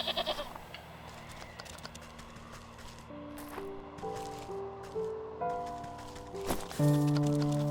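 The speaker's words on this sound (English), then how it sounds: "Okay, we gotta lure the mountain goat." Mountain goat in the video game Wytchwood bleats in short wavering calls over a light, tonal game-music background, with a few soft squishy footstep-like effects.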